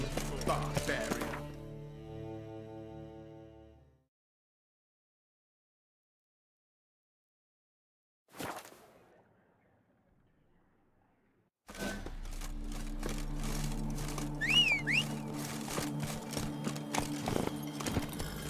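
Horse hooves clattering in The Witcher 3 game, a steady clip-clop run that stops, leaves a long quiet gap, then picks up again loud and continuous, with a brief voice line in between.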